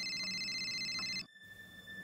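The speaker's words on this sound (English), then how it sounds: "The phone is ringing downstairs." Telephone ringing downstairs, a steady electronic warbling ring heard from a distance, cutting off abruptly before a quieter lingering tone continues.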